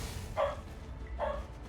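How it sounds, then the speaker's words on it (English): A pet dog barks twice at home, two short muffled woofs about a second apart, somewhat distant behind low background noise and game sound. "That's our dog."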